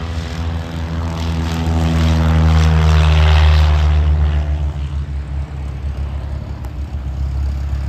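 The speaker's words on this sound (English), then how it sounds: "We got a float plane coming in." A propeller float plane comes in at Vernon airport, its engine drone loud and steady with a rising, then easing pitch as it passes close by, holding strong to the end.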